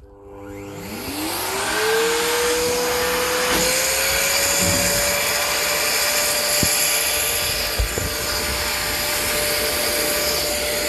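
A suction vacuum spins up to a steady high whine while sucking out debris during repairs, running loud and continuous close by with a few brief knocks and rattles as material passes through.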